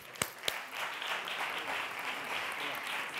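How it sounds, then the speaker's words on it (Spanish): An audience at a Cava industry event breaks into steady, sustained applause, many hands clapping together at moderate distance after two sharp early claps. "Vamos a darle un gran aplauso."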